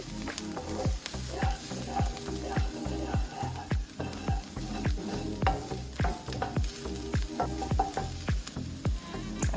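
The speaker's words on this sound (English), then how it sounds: "Just warming the garlic, really." Garlic gently warming in a pan for a soup, with a low steady sizzle under repeated rhythmic scraping and stirring of a utensil against the pan, close and moderately loud throughout.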